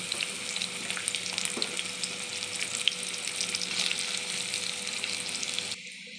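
Continuous, close sizzling and crackling of bitter gourd frying in oil, fairly even throughout with occasional light pops, ending abruptly.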